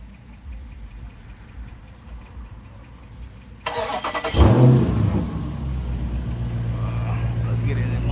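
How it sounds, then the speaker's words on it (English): A straight-piped 2023 Dodge Challenger Scat Pack fires up after a few quiet seconds, its starter catching into a loud, rumbling blip and then settling into a steady, deep idle close by. "Let's start the car."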